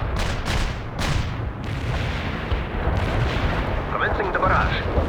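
Artillery strike explosions in the video game World in Conflict, a series of heavy booms and rumbling blasts in quick succession, loud and close, with muffled voices underneath.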